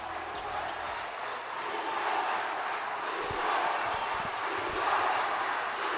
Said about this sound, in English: Shouting defense, ladies and gentlemen, that is the Pampanga crowd